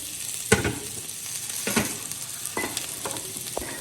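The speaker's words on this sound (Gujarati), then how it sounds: "એ જ કઢાઈમાં છે તેલવાળી છે, તેમાં આપણે બટેટા એડ કરી દઈશું" Potatoes fry in hot oil in a kadai for a Gujarati bhungla bateta dish, a steady soft sizzle broken by several sharp scraping stirs of a spoon, close and fairly quiet with no talking.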